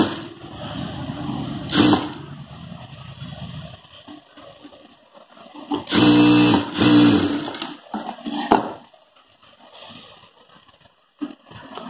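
A sewing machine stitches a blouse in short bursts: a brief run, then a longer whirring run of about a second, then another quick one, with quiet handling sounds between.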